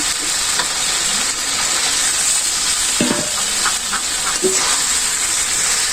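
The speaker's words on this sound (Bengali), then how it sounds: "ভালো করে আমি কষাবো মাংসটা" Chicken meat sautéing in a pot over a village cooking fire gives a steady broadband sizzle and hiss throughout, with a few short scrapes of stirring near the middle and no talking.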